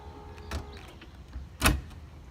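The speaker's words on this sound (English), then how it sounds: "Deck lid going down." Corvette power convertible top deck lid closing, a brief motor whir followed by a firm thump as the lid seats, close and fairly loud.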